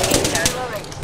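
Gunfire in the video game Apex Legends comes in rapid, loud, dense bursts of close shots, filling the whole short moment without a break.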